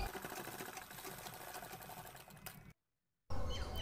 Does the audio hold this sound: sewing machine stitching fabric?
yes